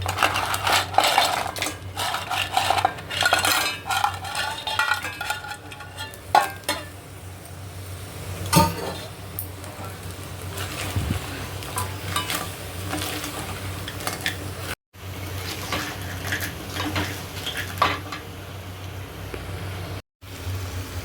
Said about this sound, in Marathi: मसाला भाजून घेतलाय. आता आपण ह्यात खेकडे आधी टाकूया